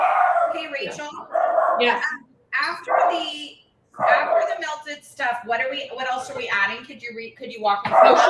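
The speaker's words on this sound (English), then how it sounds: "Oh, that's my dog." A house dog barks and yips in the background of a home baking call, with short repeated barks and whimpers mixed under continuous conversation between people.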